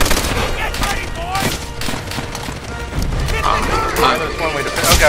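Enemy gunfire in Call of Duty: World at War, sustained rifle and automatic bursts crackling continuously from a distance, with louder hits and cracks scattered throughout as players talk over it.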